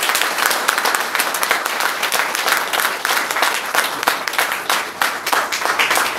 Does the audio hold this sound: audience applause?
yes